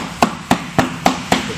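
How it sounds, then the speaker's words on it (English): Metal hammer tapping fixed glass glazing into a window frame: five evenly spaced, sharp knocks, close and fairly loud, about a quarter second apart over a steady background hiss. "because I have a metal hammer in my hand right now."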